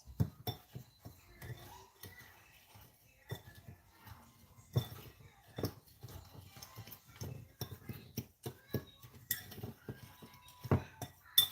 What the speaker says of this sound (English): we're just gonna mix all of that together